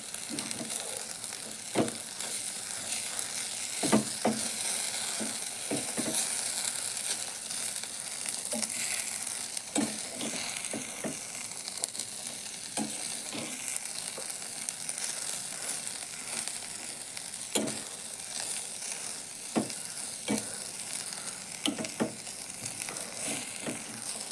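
Okra sizzles in a pan while grated coconut is stirred in, with a steady crackle broken by scattered scraping and clattering from the stirring.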